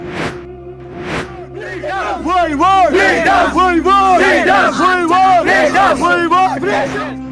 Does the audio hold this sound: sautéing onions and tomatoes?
no